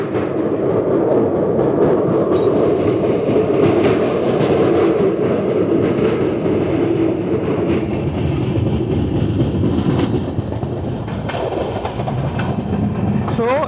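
Visakhapatnam–Mumbai LTT Superfast Express, train 22847, rolling along at speed, a loud continuous rumble and rattle of coaches with rhythmic wheel clatter heard from inside throughout.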